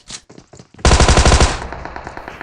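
A burst of rapid Thompson SMG fire in the PUBG video game, about eight close, loud shots in quick rhythm, then a lingering echoing tail, with no talk.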